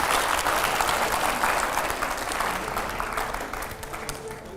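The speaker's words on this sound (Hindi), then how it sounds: "जोरदार तालियां हो पहले तो एकदम।" A studio audience at a talk show with editors and a politician breaks into loud, sustained applause, dense clapping that stays steady before easing off slightly toward the end.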